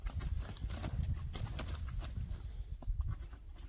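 A heavy wild boar thrashes and bangs around in a metal trap cage, producing loud rattling thuds and scrapes in a rapid, continuous clatter up close.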